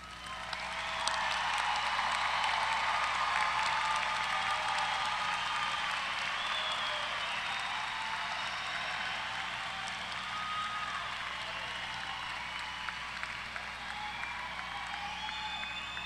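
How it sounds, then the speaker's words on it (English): A large audience applauds risen graduates at a spring university commencement in a big hall, sustained and even applause with some cheering, fairly distant and diffuse, gradually easing off. "let's all give them a, a round of applause."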